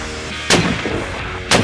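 Two loud rifle gunshots fired through a six-port muzzle brake, one near the start and one near the end, each a sharp broadband crack with a short decay, over a steady outdoor background and no talk.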